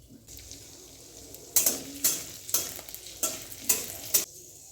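Spices for dal tempering crackle and sizzle in hot oil with chopped ginger. Five or six sharp bursts of frying and stirring come in a regular rhythm, close and fairly loud.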